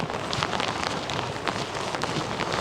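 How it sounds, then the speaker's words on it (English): Steady rain falls on a golf course as a storm comes in, a dense even hiss of drops with scattered sharper patters, moderately loud and continuous with no talk. "I think we've noticed the rain"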